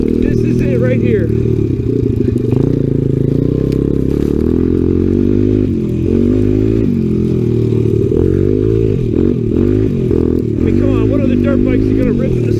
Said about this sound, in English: Flying on our little Honda 100 in the snow.